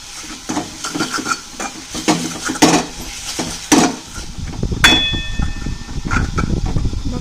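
Green chillies are crushed for thecha with a metal tumbler, giving repeated scraping grinds and clanks of metal on the pounding surface in an uneven rhythm, close and fairly loud, with one sharp ringing clink.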